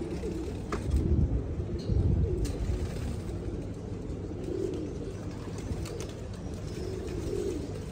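Low, soft racing pigeon cooing repeats in a few rounded bursts, close by, over a steady background rumble.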